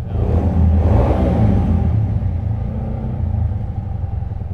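An old motorcycle engine runs with a loud, steady low rumble, swelling slightly early on and then holding an even idle-like drone close by, with no talk over it.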